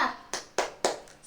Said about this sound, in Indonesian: kita tepuk semangat bareng-bareng